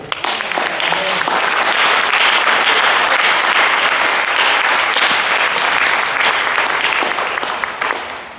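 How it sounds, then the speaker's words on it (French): A church congregation bursts into loud, sustained applause, many hands clapping together for several seconds before tapering off at the end. "Est-ce qu'on peut acclamer un peu?"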